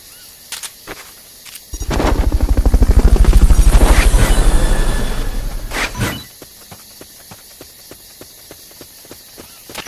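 Helicopter in a Metal Gear Solid game sweeps in loud, its rotor thumping rapidly and swelling to a roar before cutting off, framed by sharp clicks and footstep-like taps.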